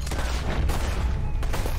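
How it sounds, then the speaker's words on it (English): Gunfire aimed at a giant alligator while hunting in the bayou in Red Dead Redemption 2, a dense, continuous run of shots and booms over low rumble, loud and close, with no talking. "We want to get as many shots into it as possible."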